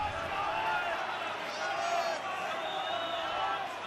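A rugby stadium crowd at a Scarlets vs Treviso PRO12 match gives off a dense, steady roar and murmur throughout, with a commentator talking over it.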